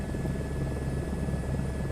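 Helicopter taxiing in a flight simulator video game, a steady close rotor and turbine drone with a constant whine, no speech.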